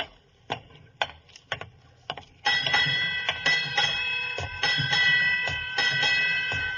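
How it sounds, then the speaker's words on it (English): Several sharp metallic strikes of a ship's bell ring out, sounding eight bells, then a denser run of bright, sustained chimes layered over one another, loud and close, with no voices. "8 bells."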